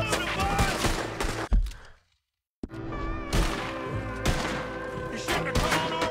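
Gunfire in a video game: rapid shots and thudding impacts crackle over a loud, busy mix of dialogue and music, with a brief dropout to silence before the firing resumes, voices talking throughout.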